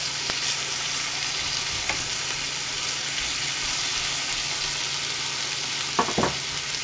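Steady bacon sizzle crackling in a hot cast iron pan, continuous and close, with a couple of brief scraping clicks near the end.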